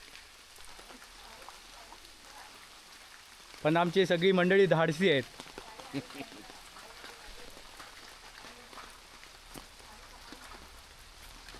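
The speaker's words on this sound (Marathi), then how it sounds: "चला चला, पाऊस खूप आहे" Heavy rain falls steadily as a constant broadband wash around a group heading to Marleshwar temple. A short burst of nearby speech rises briefly over the downpour.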